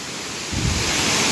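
The Lamassua waterfall in Bontomasunggu village, South Sulawesi, gives off a steady rushing roar of falling water, which swells louder and fuller about halfway through.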